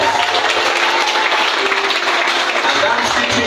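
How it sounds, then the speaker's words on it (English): Steady, dense audience applause rolls on at an even level for the whole stretch, loud and continuous with no break, during a motivational talk on passing exams. "Give a round of applause to yourself."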